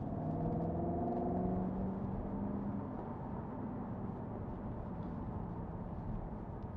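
A 2010 Jaguar XK with a 5.0 V8 and automatic gearbox shifts down into third, with a steady engine rumble whose tone drops briefly early on before settling into an even, moderately loud drone.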